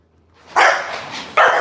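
An American Bully dog barks loudly and close by, one long bark followed by a second short bark.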